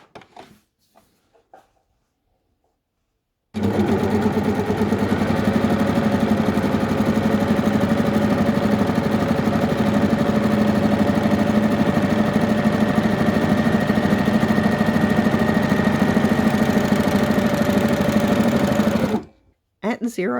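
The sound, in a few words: sewing machine sewing stretchy fabric, differential feed at 0.5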